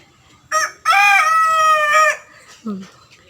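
One loud, close rooster crow lasts about a second, preceded by a short call and followed by a low cluck, with quiet surroundings otherwise.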